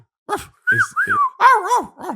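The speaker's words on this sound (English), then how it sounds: "there's a dog here now" A dog in a room gives a few close, whining barks and drawn-out yelps in short bursts with brief pauses between them.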